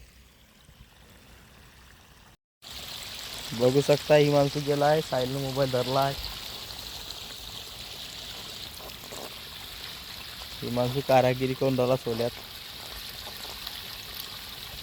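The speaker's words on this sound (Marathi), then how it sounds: "आलं पाणी बी आलं आहे आपलं इकडं बघू शकतो पाणी आलेलं आहे" Irrigation water rushes and gurgles into a farm field in a steady, close wash of flowing noise, with someone talking over it in bursts.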